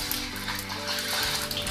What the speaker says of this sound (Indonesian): panaskan sedikit minyak dan masukkan ini ya, telur